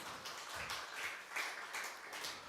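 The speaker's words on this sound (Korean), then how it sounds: "우리 박수 한번 하겠습니다." A church congregation applauds during a Sunday service, a soft, fairly distant patter of many hands clapping in uneven bursts.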